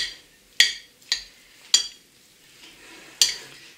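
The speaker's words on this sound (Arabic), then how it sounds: "وغادي نخلط." A spoon scrapes and clinks through a bowl of tabbouleh freshly dressed with olive oil, four sharp metallic strikes spaced irregularly, each followed by a short wet rustle, close and clear.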